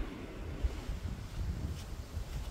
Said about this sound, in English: The water is very choppy today.